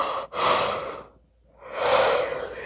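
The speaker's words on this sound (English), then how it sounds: "Sorry for all the yawning." A person yawns during an early-morning yoga session, with two long, breathy exhalations separated by a brief quiet gap, close and fairly soft.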